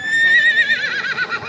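A horse at the Yeola horse market in Maharashtra gives one loud, close whinny. The neigh is high and quavering and falls in pitch as it trails off over about a second and a half, with no talk over it.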